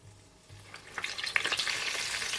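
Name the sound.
chicken spring rolls frying in oil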